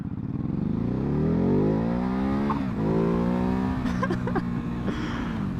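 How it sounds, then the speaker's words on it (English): 2019 Ducati Hypermotard engine pulling hard under moderate throttle in sport mode: a close, loud, throaty motorcycle note climbing in pitch through two long surges, with a short dip between them and some wind noise. "That was moderate throttle and the front wheel came up in sport mode"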